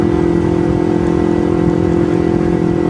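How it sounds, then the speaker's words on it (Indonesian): A carbureted Kawasaki Ninja 250 motorcycle engine warms up at a steady idle. It gives an even, close, humming drone with no change in revs and no voices. "Hitung-hitung panasin motor juga."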